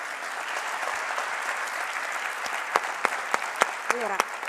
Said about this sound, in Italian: l'applauso più grande lo fanno da questa sala qua